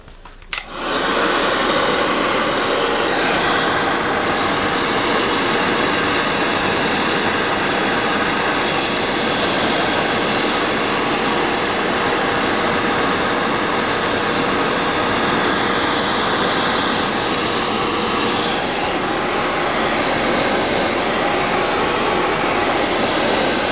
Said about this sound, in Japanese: ドライヤーでタイヤを温めてゴムを若干広げるような形にします。